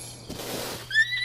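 A horse in the video game Zelda: Breath of the Wild gives a brief neigh, a short whinny over faint game background sound.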